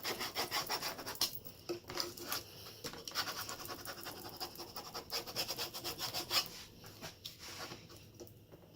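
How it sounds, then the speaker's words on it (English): Scraping tool rubbed firmly over transfer tape to press a vinyl design onto a wooden sign, giving repeated close, dry scratching strokes in an uneven back-and-forth rhythm with no talking. "Using our scraping tool, we're going to just like apply the transfer tape all the way to our design."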